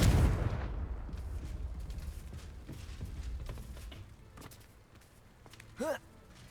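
Confringo fire spells blast in Hogwarts Legacy, in goblin mines: a loud burst of explosive impacts up front, then fainter scattered bangs and rumbling amid combat noise.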